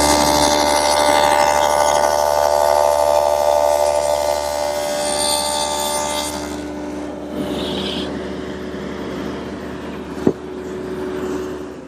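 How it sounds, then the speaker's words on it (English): A table saw fitted with a dado blade cuts dados in a chest side panel, giving a loud steady whine for about six seconds, then the sound drops as the blade spins down, with a small clunk near the end. "I'm going to use the dado in the table saw"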